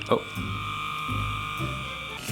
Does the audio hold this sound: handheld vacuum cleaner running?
yes